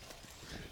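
Hooves of horses being led on foot in a Western film clip-clop in a quick, close, moderately loud run of steps, with no talk over them.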